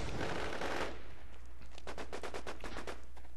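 Automatic gunfire from the War Inc Battlezone video game: a rapid burst of evenly spaced shots in the second half, following a stretch of dense, noisy game sound, moderately loud and close.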